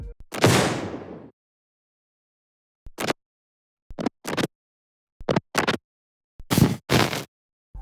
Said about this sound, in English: These little crackles here are some of my favourite parts of the library. They're the very start of these firework recordings, and they have this nice poppy quality